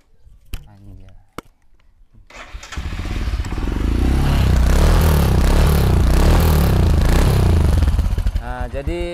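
A Royal Enfield Himalayan 400cc motorcycle engine starts after a few brief clicks and cranks, then settles into a loud, close, steady running rumble with a thumping single-cylinder beat that fills most of the clip.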